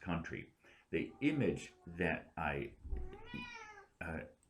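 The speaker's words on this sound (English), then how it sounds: "if you hear this cat shrieking in the background" A cat shrieks with a drawn-out, wavering cry in the background while someone speaks in a lecture setting.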